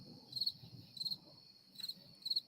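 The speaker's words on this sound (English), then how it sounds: "Crickets." Crickets chirping as a sound effect played from a button, in repeated short bursts at a steady rhythm over a low background murmur.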